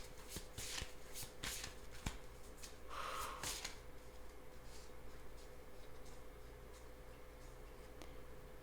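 Tarot cards are shuffled and drawn in a quiet room: soft, close riffling and flicking of the deck with a few light taps, then a brief burst of card shuffling, with no talking.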